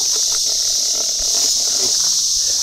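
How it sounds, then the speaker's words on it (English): Four captive cicadas give a steady, high-pitched electric buzz that stays close and fairly even throughout, with faint background rustling beneath it. "We've got 4 cicadas."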